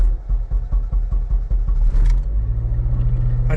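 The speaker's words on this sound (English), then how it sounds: "So I'm gonna go ahead and start the car." An 8th-generation Honda Civic Si engine cranks with rapid rhythmic chugging, then catches and settles into a steady, low running rumble.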